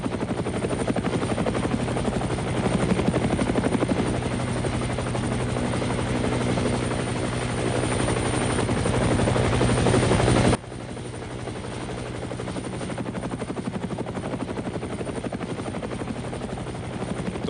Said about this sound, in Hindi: तो हेलीकॉप्टर की गड़गड़ाहट आप सुन रहे हैं अपने स्क्रीन पे।